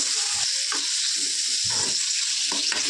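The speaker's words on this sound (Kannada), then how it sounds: "ಮೆಣಸಿನ್ಕಾಯಿ ಮತ್ತು ಟೊಮೆಟೊನ ಹಾಕ್ಕೊಂಡ್ಬಿಡ್ತೀನಿ ಇದೆಲ್ಲನೂ ಸಾಫ್ಟ್ ಆಗೋವರೆಗೂ ಚೆನ್ನಾಗಿ ಫ್ರೈ ಮಾಡ್ಕೋಬೇಕು" Green chillies and tomatoes fry in oil with a strong, continuous close-up sizzle, punctuated by a few soft stirring knocks and scrapes.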